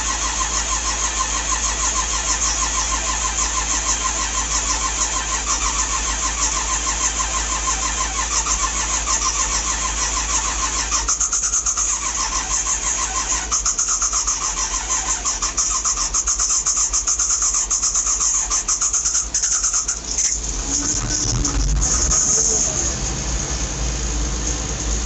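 A cold engine on a farm vehicle cranks steadily with a rhythmic starter whir for several seconds, then catches and fires, rumbling into a rough idle near the end, loud and close with no talk.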